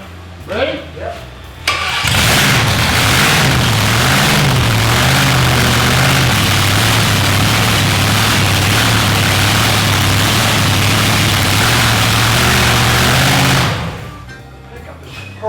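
A dragster engine starts and revs loud and steady close up, a sustained roar that holds for about twelve seconds before cutting off, with brief voices before and after.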